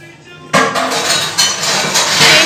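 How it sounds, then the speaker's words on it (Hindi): Dishes being washed in a village home kitchen, loud metallic clinks and clattering of utensils starting abruptly and repeating irregularly, close by with no talk. "पीछे दीदी बर्तन धो रही है इसलिए आवाज़ आ रही है।"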